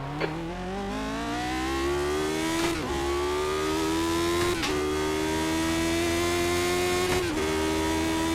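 A race car in a racing video game approaches with a loud engine that revs upward in pitch, dropping briefly at each gear shift before climbing again, with no talking.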